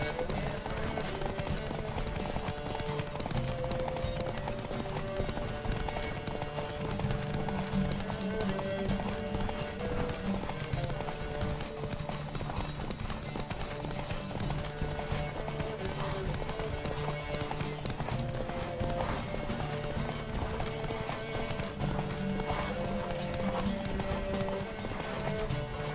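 Rapid, steady hoofbeats of a galloping horse in The Witcher 3 drive on continuously, with layered game music and effects throughout.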